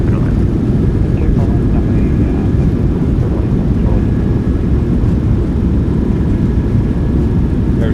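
A PMDG 737-700 in a flight simulator roars with thrust reversers as it slows after landing, a loud, steady rush of engine noise that continues throughout.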